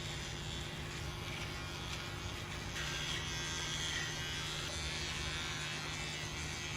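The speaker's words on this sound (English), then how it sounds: "You still have to have a machine like this, the Baby Bliss" A BaByliss electric beard trimmer buzzes steadily while cutting a short beard, a constant close-up motor hum with a slight change in tone as the blades move over the hair, no voices.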